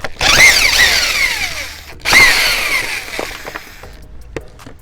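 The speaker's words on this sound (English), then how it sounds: "Take these screws out so we can save these hinges." A power drill backs screws out of hinges on a weathered wooden fence: two loud whirring bursts whose pitch sweeps down as the motor winds down, followed by small clicks and rattles nearby.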